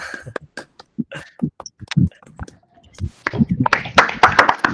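Participants in an online debate clap over open microphones, scattered separate claps from several sources, patchy at first and then thicker, with a voice speaking briefly.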